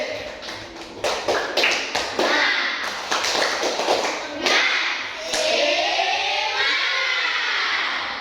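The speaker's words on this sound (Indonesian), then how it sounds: "Mari sama-sama berikan tepuk semangat, berikan tepuk semangat." A group doing the rhythmic tepuk semangat spirit clap, crisp synchronized claps in an even, accelerating pattern, loud and close, followed by voices chanting together.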